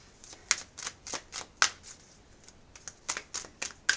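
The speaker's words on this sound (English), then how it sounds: "I'm gonna go ahead and shuffle because I was distracted." Deck of oracle cards being shuffled by hand, a series of quick crisp riffling bursts in an irregular rhythm, close and clear without talk.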